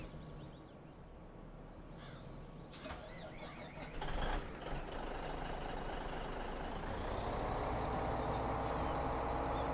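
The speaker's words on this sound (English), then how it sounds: "That sounds like lots of in-game trucks." Heavy in-game truck engines in Farming Simulator 17 rumble loudly and steadily throughout, with a brief surge and shift in tone partway through. No one speaks.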